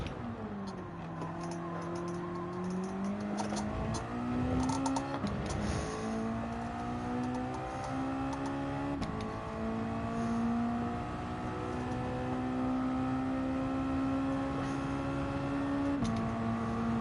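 A Mazda MX-5 Roadster touring car in Gran Turismo 7 revs and climbs through its gears, the engine note rising, dropping at each upshift, then pulling steadily higher under a faint ticking.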